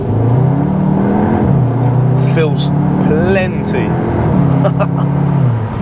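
A Cupra Leon front-wheel-drive hot hatch accelerates hard, its engine a loud, steady drone that climbs in pitch, drops at each gear change, then climbs again, while someone talks over it.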